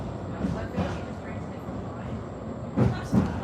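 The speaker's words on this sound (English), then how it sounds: "This tram is for Hucknall." Nottingham tram running with a steady low rumble and rattle, a couple of louder clunks near the end, while people talk faintly in the background.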